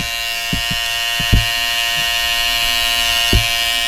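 Electric hair clippers hum steadily at close range while lining out a beard, a constant buzzing drone broken by a few brief clicks and taps of the blade against skin.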